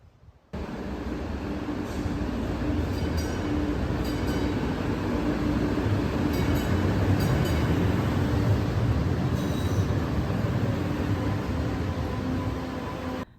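A Boston subway train rolls steadily along, a loud continuous rumble and roar with rail clatter sustained for over twelve seconds after a sudden start.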